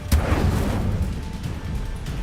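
Expulso explosion spell in Hogwarts Legacy, a sharp booming blast with a deep rumbling tail, loud and close.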